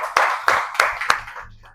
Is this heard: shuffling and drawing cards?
no